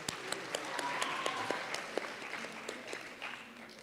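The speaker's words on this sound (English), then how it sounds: "Let's give him a round of applause." Applause at a school awards afternoon: a scattered audience claps steadily, with individual hand claps audible through a soft, fairly distant, quiet wash.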